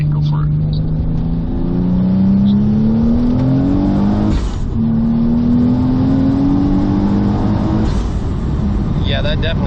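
A Toyota Supra MKIV pulls hard through second, third and into fourth gear, engine note rising loudly in long sweeps with gear-change dips between, heard from inside the car with voices talking over it.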